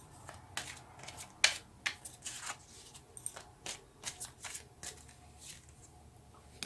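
Tarot cards shuffled close by in a quiet room, a run of crisp riffling snaps and soft slides that comes in uneven bursts.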